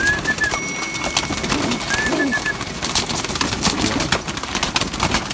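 Pigeons cooing and shuffling in a stock loft, a steady busy bed of soft coos and rustling wings with a few brief higher calls, close and continuous throughout.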